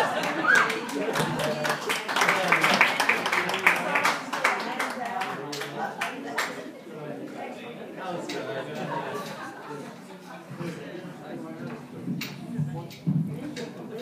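Audience applause and cheering for Margaret Walters, scattered clapping and chatter that swells early then thins out, with voices talking and laughing through it.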